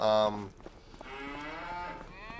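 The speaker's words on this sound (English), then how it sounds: "So, we have cows." Cattle in the Farming Simulator 25 video game moo, with one loud, close call at the start and then longer, softer lowing that carries through the rest.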